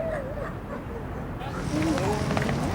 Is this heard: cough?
no